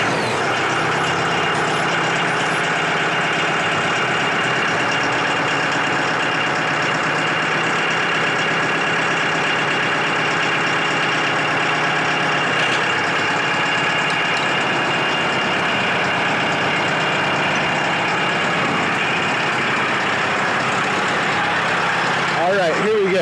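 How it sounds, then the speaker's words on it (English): Mahindra 3550 PST 4WD tractor engine idling with a long, muffled exhaust, a steady low rumble running unbroken at close range throughout. "one thing that people say about our tractors is that it sounds like a real tractor"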